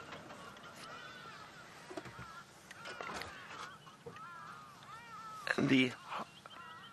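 A hadeda ibis gives loud, harsh honking calls from behind a safari vehicle in the African bush at sunrise. The calls burst out strongly near the end, over steady ambient noise, while a guide talks throughout.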